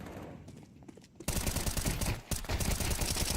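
Pistol fire rings out in rapid, dense bursts during a Counter-Strike match on the Ancient map, quiet at first and then loud and continuous from the midpoint, with no voices.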